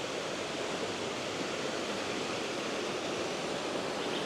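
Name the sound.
waterfall in Waimea Valley, Oahu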